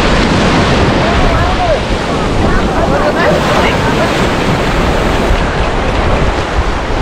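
Sea waves wash and break steadily on a beach where a horse is ridden through the surf, a loud continuous roar mixed with gusting wind noise throughout.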